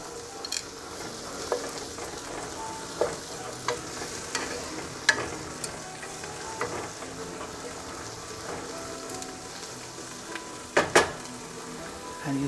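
Mint and parsley get stirred into a sizzling cauliflower stew in a pan, a steady low fry punctuated by intermittent scraping and clacking of a spoon against the pan, no one speaking.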